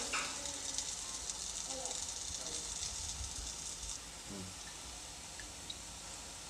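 Urad dal vadas sizzle and fry steadily in hot oil, a continuous dense hiss with faint bubbling crackle, close and constant throughout.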